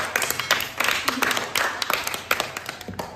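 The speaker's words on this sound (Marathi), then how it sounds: "वैष्णवीसाठी सुद्धा टाळ्या वाजा" Schoolchildren in a classroom clap for a classmate, a brief scattered round of many small hands with uneven, lively rhythm and a few quiet voices mixed in.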